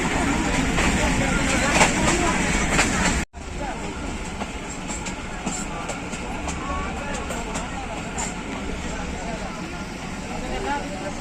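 Hazara Express passenger train rolling along the rails on the Haripur to Rawalpindi line, a loud continuous rumble with rattling wagons that cuts out abruptly for a moment and then resumes steadily.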